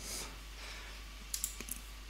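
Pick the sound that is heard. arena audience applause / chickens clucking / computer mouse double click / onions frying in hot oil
computer mouse double click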